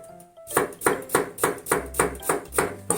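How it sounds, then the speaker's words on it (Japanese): A knife slices a cucumber into rounds on a cutting board for fukujinzuke pickles, making about eight crisp, evenly spaced chops at a steady rhythm, close and clear, with no talking. "きゅうりは丸く切ります。"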